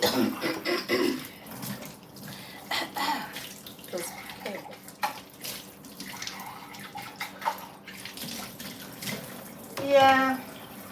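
Tap water runs and splashes into a basin in a home, in intermittent bursts, while a person talks over it.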